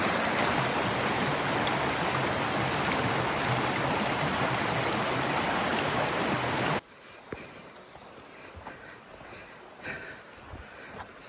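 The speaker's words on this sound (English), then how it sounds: ""15 crossings of this river," although I think it might be called a creek on the map." Flowing creek water on the Black Forest Trail, a loud, steady broadband rush close by for about seven seconds before it cuts off to a much quieter outdoor background with faint rustles.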